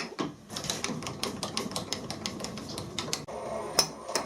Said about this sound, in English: This is one of the only times you'll see me use a milling cutter in a drill chuck.